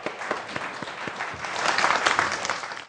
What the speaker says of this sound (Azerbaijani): Alqışlar xahiş edirəm